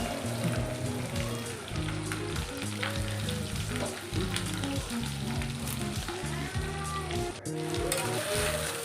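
Potatoes fry in a pan for a home breakfast, giving a steady, close sizzle that runs unbroken for the whole stretch, with a tonal hum layered underneath.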